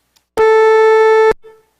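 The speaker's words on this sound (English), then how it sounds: "if I do all of them, get the full sawtooth wave" A synthesized sawtooth wave built by stacking sine harmonics on a 440 Hz fundamental: a single loud, steady buzzing tone that starts abruptly, holds for about a second, then cuts off with a brief faint tail.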